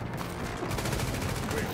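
Rapid gunfire in the video game Tom Clancy's The Division, a dense, continuous burst of shots that are loud and close throughout the short stretch.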